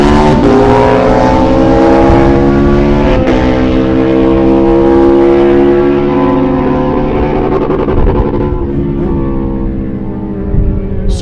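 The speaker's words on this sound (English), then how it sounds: "Hayes on board the V-twin powered 2006 Harley-Davidson Destroyer" Drag racing motorcycles, a V-twin 2006 Harley-Davidson Destroyer and a 1990 Kawasaki, roar in a sustained, loud, close engine howl that holds steady and then gradually fades.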